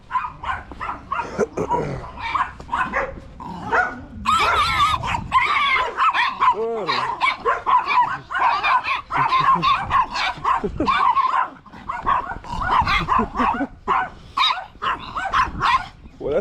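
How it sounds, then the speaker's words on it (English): A bunch of chihuahuas yapping in a street in Colombia, rapid high-pitched barks and yips packed close together, loud and near, with whimpers and a voice talking between the barks. "Bunch of chihuahuas there."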